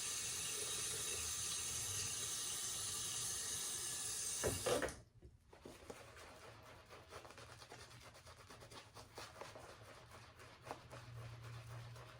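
Water gushing from a bathroom tap during a wet shave, a loud steady hiss for several seconds before it shuts off abruptly, leaving quiet handling noises and light clicks.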